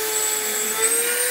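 A Dremel rotary tool whines at a steady high pitch during a brief, close burst, with no voices over it.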